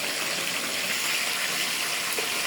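Cooked spaghetti is drained through a sieve, a steady close rush of pouring water with no talking.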